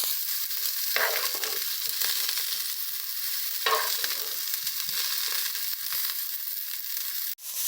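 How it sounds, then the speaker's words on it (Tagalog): Food sizzles and crackles steadily in a good pan with only a little oil, a close, continuous frying hiss with occasional louder spits and stirring scrapes, heard alone without talk. "I did not fry with a lot of oil because I'm using a good pan"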